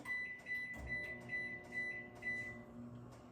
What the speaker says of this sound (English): put some of these broccoli florets right into the microwave